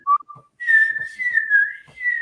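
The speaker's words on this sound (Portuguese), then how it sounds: "aquele assobiozinho começou a virar um assobiozão" Someone whistles a short bright melody, a few quick notes followed by a longer wavering tone, close and clear.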